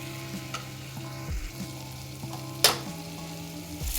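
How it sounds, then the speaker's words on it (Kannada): Washed rice goes into sizzling veg biryani masala in a pan: a steady close sizzle with stirring scrapes and one sharp clatter midway, with no speech. "ನೋಡಿ, ಅಕ್ಕಿ ಹಾಕ್ಕೊಳ್ತಾ ಇದ್ದೀನಿ."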